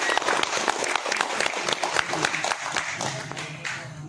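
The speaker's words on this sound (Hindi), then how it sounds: "एक जोरदार तालियां जो है हो जाए।" A roomful of people at an office retirement farewell applauds, a dense burst of clapping that carries on steadily before tapering slightly at the end.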